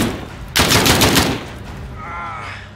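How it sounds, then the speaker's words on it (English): A burst of rapid automatic gunfire in Call of Duty Modern Warfare (2019) gameplay, a loud, sharp volley lasting under a second, then fading echoes and a short voice at the end. "The gunshots, of course."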